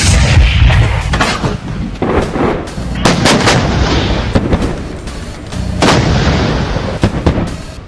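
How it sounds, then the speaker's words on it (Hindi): Abdali surface-to-surface missile test launch, heard as a loud, continuous roaring rumble with repeated heavy blasts and bursts, like artillery fire, sustained for several seconds with no voices. "पाकिस्तान ने एक्स इंडस मश के तहत अब्दाली वेपन सिस्टम का कामयाब तजुर्बा किया है।"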